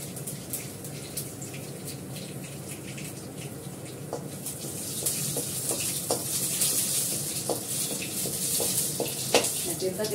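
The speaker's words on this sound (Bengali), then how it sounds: "ভালো করে ভাজা হোক" Bata fish frying in hot oil in a pan, a steady crackling sizzle with scattered sharp pops that grows somewhat louder halfway through; no one speaks.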